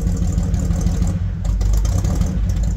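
A car's engine and exhaust note heard from behind the vehicle, a loud steady low rumble with a slight clatter, continuous throughout without voices.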